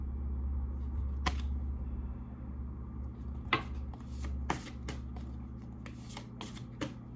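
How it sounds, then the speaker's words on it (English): An oversized tarot deck being shuffled by hand, with sharp riffling bursts and card-snapping flutters repeating irregularly over a low steady background hum, close and clear. "This deck is so big, it's always funny to shuffle it."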